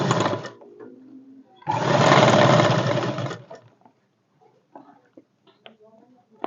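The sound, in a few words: sewing machine stitching a folded hem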